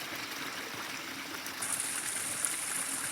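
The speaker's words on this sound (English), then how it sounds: "First time water's been through that pipe in a year." Storm runoff flowing through a drainage pipe, a steady close rushing of water that grows slightly louder and fuller partway through, with no voices.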